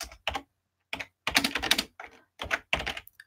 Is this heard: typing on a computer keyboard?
yes